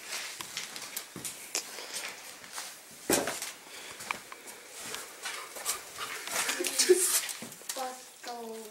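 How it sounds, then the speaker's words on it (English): A dog pants and whimpers inside an old house during a night investigation, soft wheezy breaths and thin whines mixed with footsteps, bumps and people talking around it. "There's a dog, okay?"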